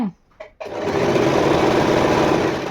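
An Usha electric sewing machine stitches a fall onto a saree, its motor and needle whirring in a loud, steady run close by after a few brief opening noises.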